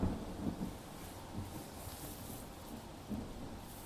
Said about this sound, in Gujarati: આપ જોઈ શકો છો કે શહેરના અલગ અલગ વિસ્તારોમાં જે વરસાદ છે તે વરસી રહ્યો છે।